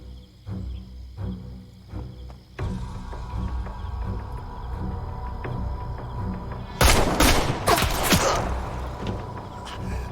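Gunfire in a shooting contest from a war drama: a low, steady rumble gives way to several loud, sharp shots in quick succession, ringing out close before the background settles again.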